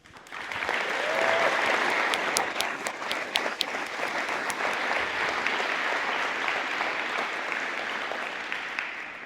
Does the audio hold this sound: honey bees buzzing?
no